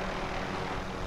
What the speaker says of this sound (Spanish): Vamos por el helicóptero,